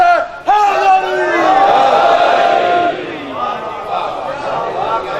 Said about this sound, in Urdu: سارے مل کے نعرے حیدری.